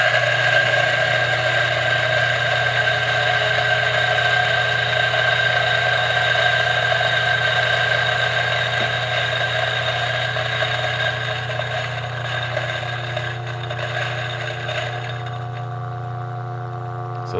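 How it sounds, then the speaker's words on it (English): A DF64 grinder grinding coffee for espresso beside a Breville Barista Express, heard as a loud, steady motor whine with a constant hum that holds evenly throughout and eases slightly near the end, with no speech. "Make sure all the coffee grinds out."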